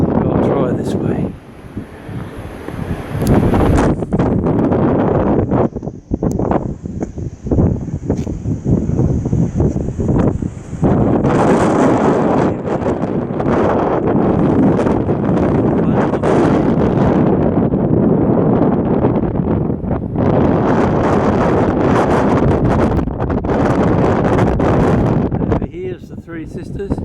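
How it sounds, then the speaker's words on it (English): Strong gusts of wind buffet the microphone on a Blue Mountains bushwalk near the Sphinx rock formation, loud and roaring in surges that drop briefly before picking up again, with someone speaking at times. "It sure is windy"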